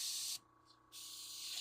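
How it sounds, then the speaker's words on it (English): An airbrush sprays clear water during backflow cleaning, giving a loud steady hiss that cuts out briefly for about half a second and then resumes. "Brush stays perfectly clear. Like, look, it's already spraying clear water."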